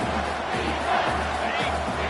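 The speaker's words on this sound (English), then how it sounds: "this crowd will blow out a vocal cord to help this defense" Stadium crowd roaring at a football game on third down, a loud sustained wall of cheering and yelling with pulsing swells throughout.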